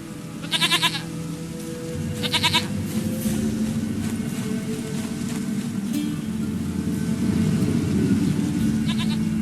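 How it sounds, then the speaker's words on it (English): A goat in The Witcher 3: Wild Hunt gives three short, quavering bleats, two close together near the start and one at the end, over a steady low rumbling ambience. "Goat of mine, dearest, sweetest goat."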